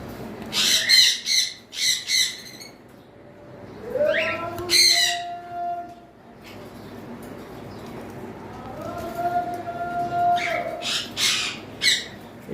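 Pet birds for sale, sun conures, love birds and cockatiels including an albino breeding pair, give loud harsh squawks in rapid bursts separated by quieter gaps, with someone talking in between.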